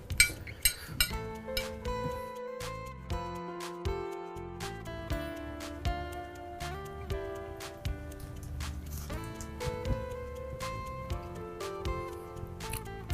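A spoon clinking against a plate while someone eats tehari, with scattered light taps and clinks in an irregular rhythm over a steady tonal background that sounds like music.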